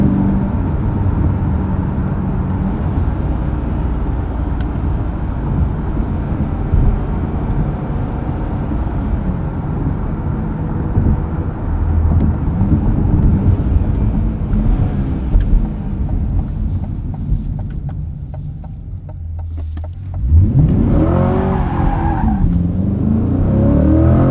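A 2025 Chevrolet Corvette Stingray 3LT pulls hard under acceleration with a loud, steady engine roar and road noise, and the engine note sweeps upward sharply near the end.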